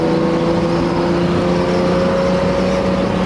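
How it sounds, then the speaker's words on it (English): 1969 Mercedes-Benz 280SE W108 with a four-speed manual, its engine running at a steady idle, a continuous loud hum with tonal overtones and no voices. "it drives and runs like it should."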